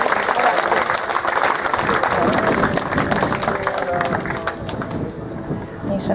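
Audience applause fills a wedding ceremony in Budapest as guests clap for the parents and family, a dense, sustained round of clapping that tapers slightly toward the end.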